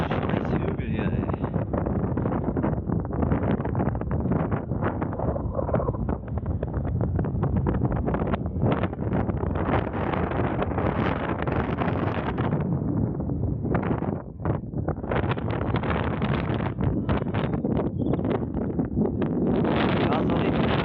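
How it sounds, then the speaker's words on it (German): Strong wind buffets the microphone on a hill along the West Highland Way in Scotland, a loud continuous roar with gusty surges and a brief dip near the middle. "bisschen windig ist gerade"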